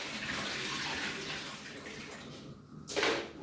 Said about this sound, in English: I'm washing the dust from the beans.